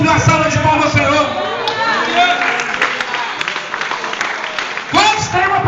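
A church congregation at a Sunday service applauds and cheers together, with loud sustained clapping and crowd voices throughout, plus shouts and singing-like calls mixed in.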